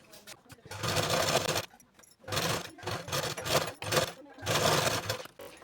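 A sewing machine runs a basting stitch on a katori blouse in several short bursts with brief pauses between them, close by, and a voice can be heard alongside.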